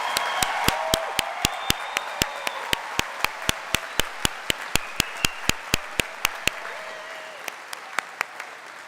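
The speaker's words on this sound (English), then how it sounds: "Let's end the ceremony with one more round of applause for our graduates." Applause for graduates at the close of a Thomas College commencement ceremony: a sustained crowd clapping with many sharp individual claps standing out, steady throughout and thinning slightly toward the end.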